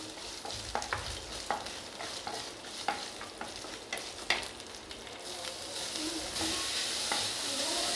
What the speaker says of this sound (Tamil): காஞ்ச மிளகாய் ரொம்ப நேரம் ஃப்ரை ஆகணும்